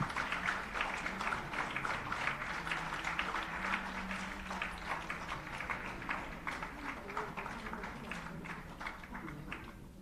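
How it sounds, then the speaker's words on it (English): Audience applause at a live cultural celebration for West Bengal's formation day, attended by a state governor; steady clapping runs throughout at moderate level, with faint background talk underneath. "I'm sure it deserves a big round of applause"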